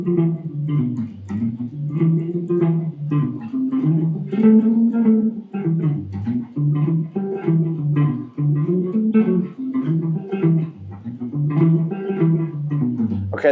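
An electric guitar with effects plays a blues chord progression, the chords strummed in a steady, loud rhythm with no talk over them.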